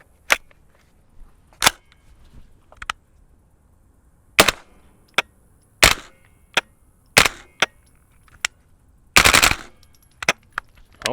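Suppressed gunfire from a CMMG Banshee fitted with a SilencerCo Hybrid 46M with its front module on, at an outdoor range: about a dozen sharp, loud reports in uneven singles and quick pairs, with a short burst near the end.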